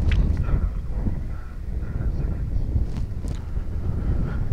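Strong wind at a model glider competition field in Dupnitsa, Bulgaria, buffets the microphone with a steady low rumble and irregular gusty thumps, close and continuous with no voices.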